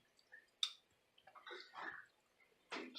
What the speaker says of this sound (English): I'll pour out the juice